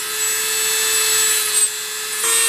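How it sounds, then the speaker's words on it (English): A Dremel fitted with a small grinding wheel shapes a mini hatchet head, giving a steady, close, high-pitched whine that holds evenly for a couple of seconds and dips briefly near the end. "I use a sort of like a little grinding wheel on my Dremel"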